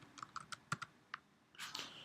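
Quiet, close computer keyboard typing, a short burst of separate key clicks followed by a brief rustling clatter, with no talking.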